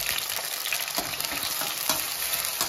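Onions and tomatoes fry in a pan with a dense, close sizzle and crackle, with stirring clicks now and then throughout. No one speaks.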